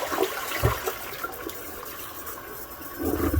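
A household toilet flushes, with water rushing and swirling through the bowl in a steady wash, swelling briefly near the start and again at the end.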